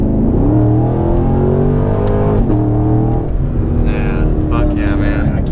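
A Chevrolet Camaro SS with paddle shifters accelerates on the street. The engine drone is loud and close and climbs in pitch through quick gear changes, with a brief rev blip partway through and speech-like sounds over the engine.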